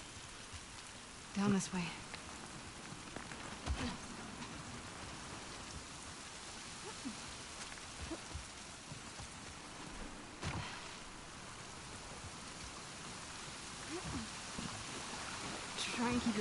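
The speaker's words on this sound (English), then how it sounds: "It's always raining." Steady rain hisses across surfaces in the video game The Last of Us Part II, a soft, continuous wash, with occasional footsteps and short spoken lines over it.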